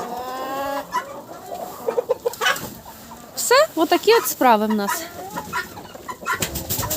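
Chickens cluck repeatedly, with a naked-neck rooster's loud, rising calls nearby, while someone speaks briefly over the farmyard noise.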